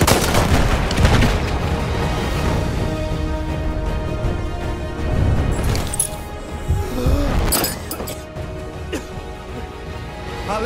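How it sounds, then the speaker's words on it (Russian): Gunfire and heavy explosions in the World War I shooter Battlefield 1 sound as a dense, loud wall of booming blasts and rapid shots, with the battle din rising and falling throughout and no talk. "Там у них пулемет!"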